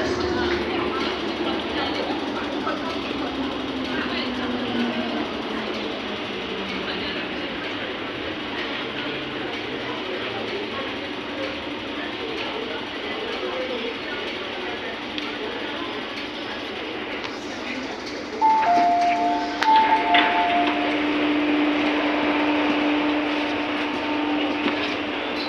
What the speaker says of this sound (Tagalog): The train to Taiwan is arriving.